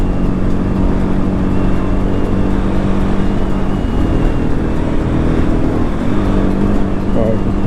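A Levhart LV200 GY-3 motorcycle accelerates hard in fourth gear on a flat, slightly downhill road during a top-speed run. The engine drone and wind noise stay loud and steady throughout.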